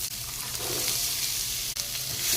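Onion and garlic fry steadily in oil for a pirandai pickle, giving a continuous close sizzle with light stirring scrapes and one brief dip partway through.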